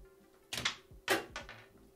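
A homemade coilgun with capacitors charged above 400 volts fires a bullet through a homemade chronograph: two sharp, close mechanical snaps about half a second apart, each with a brief rattling tail, in an otherwise quiet room.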